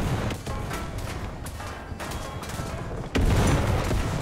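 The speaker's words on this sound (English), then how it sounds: "I got player shooting me." Another player fires on the listener's vehicle in War Thunder during the April Fools event of exoskeleton combat suits against tanks: loud, continuous rattling bursts of gunfire with booming impacts, which grow heavier near the end, and no talk.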